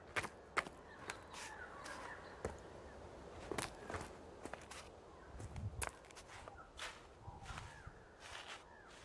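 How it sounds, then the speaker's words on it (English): Birds calling in the desert survival game Arid, scattered crow-like caws and sharp chirps over a quiet ambient bed, mixed with crunching footsteps, the calls sounding moderately distant and irregular. "now I can hear the birds"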